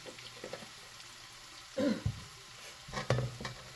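Onions and garlic frying in a pan for pancit palabok, a soft sizzle with a few scraping stirs, quiet and close with no talk.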